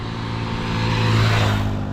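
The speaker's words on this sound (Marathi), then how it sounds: "चला, गाडी येतात." A motor vehicle on a village road, a steady engine drone rising slightly in loudness as it draws nearer, close and continuous with no talking.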